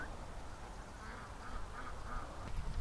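Ducks quacking on a murky lake, a faint scattered chorus of calls over steady outdoor background noise.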